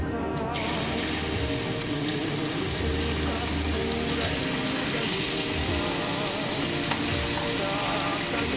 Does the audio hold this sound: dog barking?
no